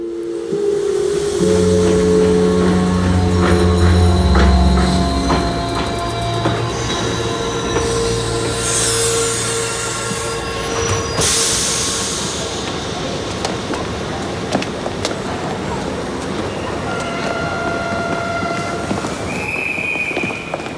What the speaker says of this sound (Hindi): ट्रेन नंबर 1148 जल्द ही अपने प्लेटफॉर्म से निकलने वाली है